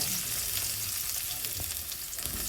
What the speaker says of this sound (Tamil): போட்டுட்டு அது கொஞ்சம் பொரிஞ்சு வந்தோடனே வெங்காயம் சேர்த்துக்குங்க